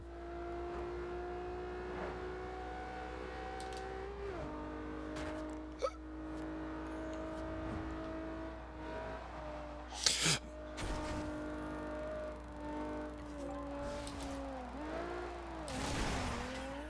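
Car traffic in the racing game Forza Horizon 2: a quiet, steady engine drone whose pitch rises and falls as cars shift and pass, with a few brief bumps and one swooshing pass near the end.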